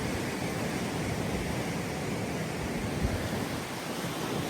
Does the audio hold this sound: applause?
no